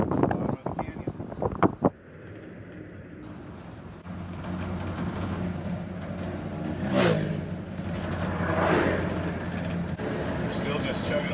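A 1970 Dodge truck drives along steadily with a low chugging engine drone and wind noise, after a brief burst of clatter at the start, with some rising whine as it picks up speed.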